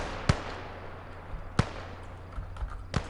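Artillery fire in the World War II strategy game Call to Arms: Gates of Hell on the Eastern Front: three sharp, fairly distant booms about a second apart, with smaller thumps between them.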